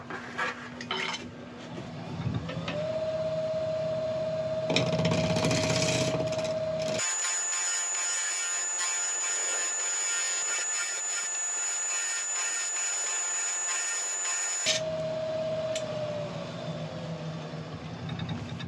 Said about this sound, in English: I'm just gonna get my ball gouge and just start rounding this over a little bit